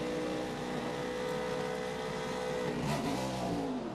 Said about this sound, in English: He was up in the RPM band trying to get that thing revving.